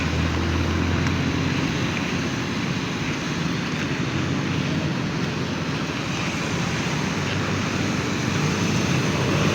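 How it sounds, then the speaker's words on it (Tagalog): Strong wind gusts during a typhoon outdoors, a dense steady roar of rushing air with rain-like hiss throughout, fairly loud and continuous with no voices. "Malakas ang hangin."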